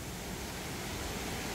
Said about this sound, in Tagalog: Twin Waterfalls of Zoe Resort here in Bulusan, Sorsogon.